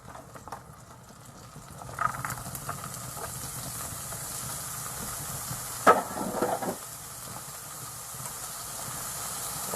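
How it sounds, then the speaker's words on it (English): Onions for beef stroganoff hit a hot pan and sizzle, a soft steady hiss that swells after a couple of seconds, with a few clinks and stirring sounds in between. "now we're going to put in the onions"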